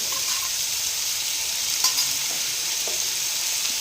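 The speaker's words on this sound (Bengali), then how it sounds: "একটু ভেজে নিয়েছি এখন মশলাটা দিয়ে দিলাম আদা জিরে আর লঙ্কা" Ginger-cumin paste and chili paste frying with fig curry in a pan: a steady, bright sizzle and hiss fills the clip, with a few soft stirring scrapes close by.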